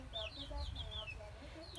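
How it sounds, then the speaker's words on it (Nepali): A chicken clucks in a few quick, high squawks close by, faint and brief, with low rumbling background noise beneath. "यो कुखुरा चाहिँ चम्केर लु तँलाई नि म काट्छु है"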